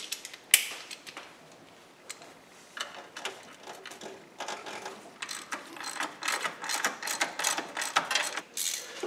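Ratchet clicking while turning bolts on a Jeep Cherokee water pump, bursts of fast pawl ticks in irregular runs, close and clear with no talk.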